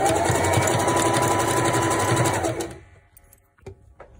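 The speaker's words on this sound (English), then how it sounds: "So I'm gonna zigzag the bottom, and I'm gonna hem this. Sew this little piece down." A sewing machine runs steadily in a zigzag stitch along the hem of a sweater, a loud continuous whir for about two and a half seconds before stopping, followed by a few faint handling clicks.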